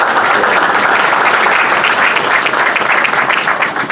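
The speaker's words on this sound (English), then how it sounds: "Please give them a round of applause for what they did." Loud, dense applause from an audience at a September 11 memorial ceremony in Paterson, continuous clapping filling the whole short stretch with no voices over it.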